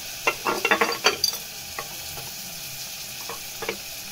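Curry leaves with ginger-garlic paste frying in a pan, a burst of close crackling sizzles and stirring scrapes early on, then quieter sporadic spits over a low hiss.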